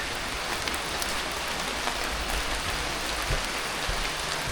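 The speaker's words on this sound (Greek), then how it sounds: "αλλά έχει πιάσει μια τρομερή βροχή." Heavy tropical rain pouring down at the Phi Phi Islands, a dense, steady hiss of drops drumming on surfaces with no breaks and no voices.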